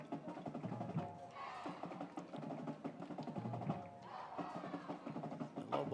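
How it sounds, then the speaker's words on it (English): A high school football crowd at a stadium roars at the end of a game, a sustained wash of cheering and shouting voices at a distance, with chants rising and falling over several seconds. "the Lobo crowd here at Sam Stadium able to make a little noise at the conclusion of this game"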